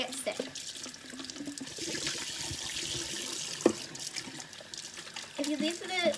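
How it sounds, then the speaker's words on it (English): Running water rinses soap out of a Tupperware water bottle, making a steady hissing faucet stream with splashes, and a person talks over it. "Make sure all of the soap is out of your water bottle"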